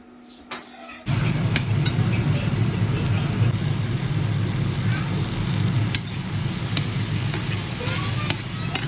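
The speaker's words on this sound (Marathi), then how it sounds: "टोमॅटो आणि कॅप्सिकम पण आपल्याला तेलात छान भाजून घ्यायचे" Onion, tomato and capsicum fry in oil and butter for pav bhaji, a steady dense sizzle that starts abruptly after a brief quiet moment and continues loud and unbroken, with a few faint clicks.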